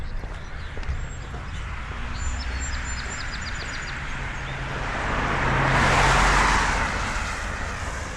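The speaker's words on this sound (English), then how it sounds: "Sounds of nature, and then you gotta walk out here and hear some car" Beside a marsh, over steady road hum and a few distant chirping birds, a car swells closer and rushes past, then its noise fades back into the background.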